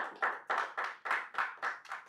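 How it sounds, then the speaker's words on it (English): Rhythmic clapping at a business investment masterclass, about eight sharp, evenly spaced claps from a small group, close and clear with no talking over them. "I think you should clap at this point."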